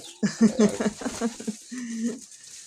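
Pigeons coo and flutter close by in a soft, low murmur, with one longer cooing call near the end.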